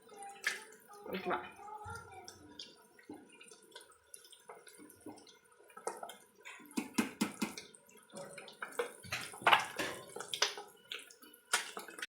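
Water drains and splashes off partly cooked rice for egg biryani in uneven bursts and trickles, with a person talking briefly over it.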